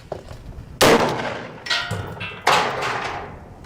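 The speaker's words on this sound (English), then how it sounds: "So we're gonna shoot that same ball that we just shot with the AR again with our 450 Bushmaster." A 450 Bushmaster rifle fired at a bowling ball outdoors: three sharp, loud cracks spaced about a second apart, each with a ringing, echoing tail, the impacts sounding metallic and clangy.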